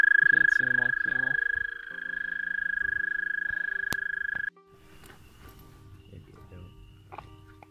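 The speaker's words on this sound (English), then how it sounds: "The month of May, we still hear spring peepers and toads." American toads call in a sustained, steady trill that rings out loudly for about four seconds in Pennsylvania in May, then gives way to quieter background chatter and scattered noises.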